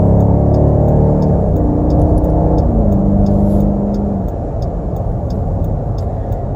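A 2018 Dodge Durango 392 SRT accelerating onto an expressway, its engine a loud, deep roar that rises in pitch through the gears, with a shift partway through, before settling into a steady drone.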